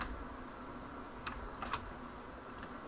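Quiet, irregular clicking of a computer keyboard as Arduino code is typed, with small bursts of keystrokes and a few louder taps standing alone against a soft background hiss.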